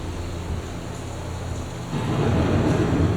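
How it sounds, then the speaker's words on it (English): A thunderstorm in the soundtrack of Epcot's Living With The Land ride, a dense steady roar of rain and rumbling that swells noticeably louder about two-thirds of the way through and continues unbroken. "The approaching storm may seem violent and destructive to us"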